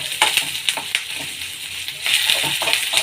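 Chopped ginger roasting and sizzling in a pan on the stove, with a steady fry hiss and light scraping taps of a stirring utensil, close and continuous.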